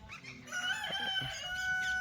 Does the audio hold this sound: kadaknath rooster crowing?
yes